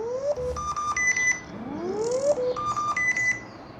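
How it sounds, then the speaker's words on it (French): A TicWatch Pro 5 Enduro smartwatch plays its water-eject tone: a quick, faint electronic melody of chirps, rising sweeps and stepped beeps that plays once and then repeats. "ça va te permettre de venir drainer l'eau que tu as dans ta montre, dans les micros"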